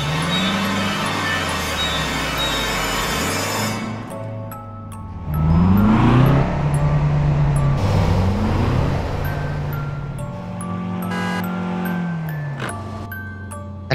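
A car races around bends and overtakes other vehicles, its engine droning close and loud with rising and falling revs as it accelerates through the curves, other traffic sweeping past.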